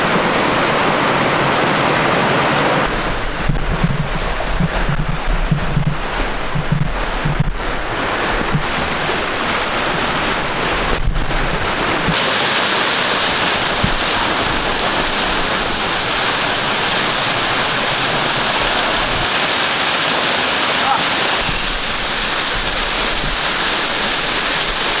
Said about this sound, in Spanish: ya llegamos al río acá en Acacias Meta, arriba subiendo